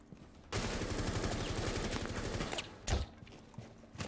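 Heavy shotgun blasts and gunfire from a Rainbow Six Siege match, starting suddenly and keeping up a dense, loud barrage with a sharp extra boom near the end.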